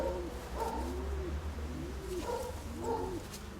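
A fancy pigeon with handsome plumage coos several times nearby in a loft, soft rolling calls in two clusters over a low steady hum, no voices.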